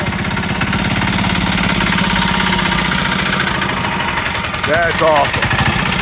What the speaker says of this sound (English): How many of you guys out there see a diesel mini bike?